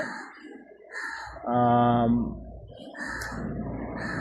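Birds call from trees near a house, with cooing and chirping calls, including a sustained harmonic call in the middle, fairly close and mixed with some background voices.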